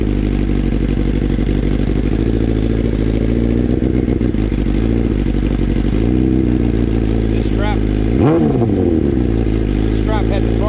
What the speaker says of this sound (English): full titanium carbon fiber exhaust on a 2021 BMW S1000RR.